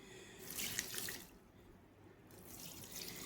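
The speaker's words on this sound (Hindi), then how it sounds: "तो अब मैं दूंगी पौधों में पानी" Water poured from a vessel into potted plants, a soft splashing trickle that swells, pauses briefly, then resumes, faint and close.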